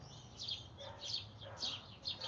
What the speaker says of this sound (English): There was a mama bird.